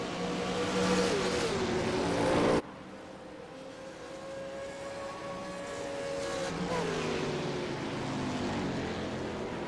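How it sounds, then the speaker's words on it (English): Trans Am Series race car engines roaring past at Road America, loud sustained tones that drop and shift after a sudden cut, as if passing or changing camera position, continuing steadily at high volume throughout. "You can hear the lovely roar of the engine that makes all the world's worth of difference."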